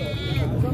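A pure Makhi Cheeni Beetal goat at a goat market gives one short, close bleat amid crowd noise.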